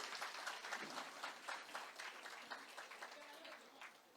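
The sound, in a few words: audience applause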